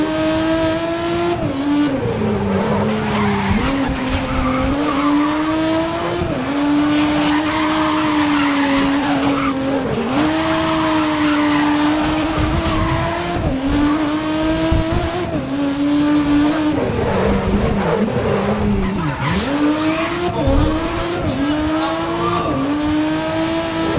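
Race cars roaring through the final lap in GRID 2019, engines droning loud and continuous with rising and falling pitch through gear shifts, overlapping tyre squeals and skids as the pack pushes for the front.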